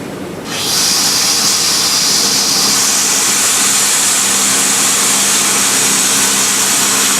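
A mechanical agar-making machine opens up to full throttle, rising within the first second into a loud, steady roaring hiss with a constant hum underneath that holds unbroken to the end, with no talking.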